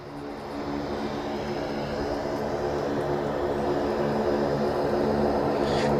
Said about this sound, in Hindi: हम वो विमान देख रहे हैं जिससे प्रधानमंत्री नरेंद्र मोदी यहां एक्सप्रेसवे पर लैंड कर चुके हैं।